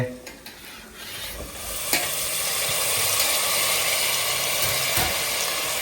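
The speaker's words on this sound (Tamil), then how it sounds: "ஆனியன் வதங்கிடுச்சு, அப்படியே தக்காளி போட்டுக்கிறேன்" Onions and tomatoes sizzle as they are stirred in a pan, a constant bright frying hiss broken by a few scraping, clicking stirs.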